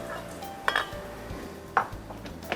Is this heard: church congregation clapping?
no